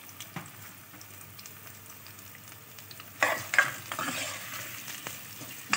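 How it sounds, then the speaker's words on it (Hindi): Chopped onions hit leftover oil in a pan for an Indian spinach and mutton dish, first a quiet background and then a sudden sustained sizzle and crackle of frying, close and steady with small spikes of stirring. "ऑयल बचा हुआ था वो हमने इसमें डाला है और इसमें हमने डाली प्याज।"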